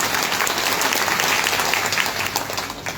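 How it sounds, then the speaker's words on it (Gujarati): An audience at a speaking event gives a sustained round of clapping, a continuous, fairly even patter heard from within the crowd with no voices over it. "તાળી પાડો, એને વખાણ કરવું જોઈએ."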